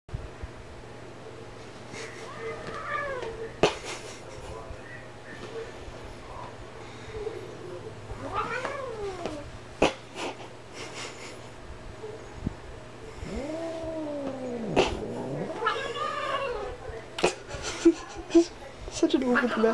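An indoor house cat meows and caterwauls in several drawn-out, rising-and-falling yowls spread across the stretch, moderately close, over a steady low hum with a few sharp knocks.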